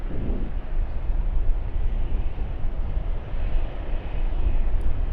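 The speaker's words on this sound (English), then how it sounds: "Jetstar Boeing 787-8 now on the taxi roll" Jetstar Boeing 787-8 jet taxiing at Sydney Airport on a cool evening, a steady broad engine roar and rumble heard from a distance, continuous and fairly loud with some wind buffeting.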